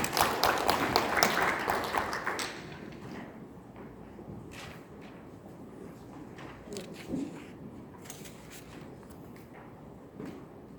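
Applause from attendees at a Korean seminar on Japanese export regulations in a chamber of commerce meeting room, brisk for about two seconds, then thinning to faint scattered claps, shuffling and room noise.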